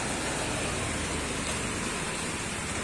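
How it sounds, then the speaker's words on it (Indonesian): Rain falling in West Jakarta, a dense, even wash of steady downpour hiss filling the whole stretch with no voices. "Jakarta baru diguyur hujan nih"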